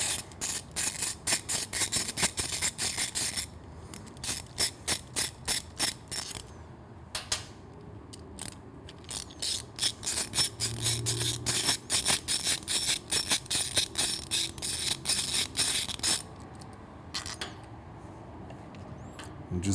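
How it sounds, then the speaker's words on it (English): An 8mm socket ratchet clicks in rapid bursts while backing off the bolt on a clutch cable bracket of a Triumph Street motorcycle, loud and close, with brief pauses between runs of clicking and no talk. "Now we want to remove this clutch cable bracket with our 8mm"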